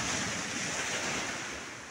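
Sea waves wash onto the shore at a swimming beach near Calbayog: a short, steady roar of surf mixed with wind noise, with no talking.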